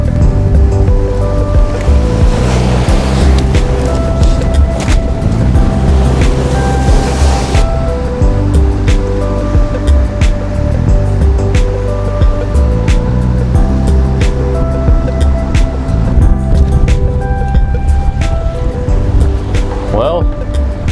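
A big ocean swell pounds a rocky shore on a windy day at a remote fishing spot, making a loud, continuous roar of crashing surf and wind rush that fills the whole stretch.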